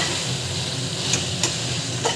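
Pulao masala sautés in a pan with a steady broadband sizzle, broken by a few light scrapes of a spoon as it is stirred, close and continuous with no talking.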